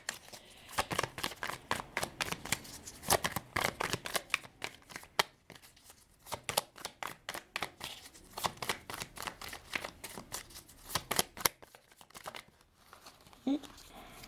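Tarot cards shuffled in quick bursts of crisp riffling and flicking, fairly close, with pauses between runs and someone talking softly at times.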